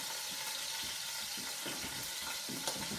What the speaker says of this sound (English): The top side of beef is now beautifully crisp on the outside, just seared for a couple of minutes.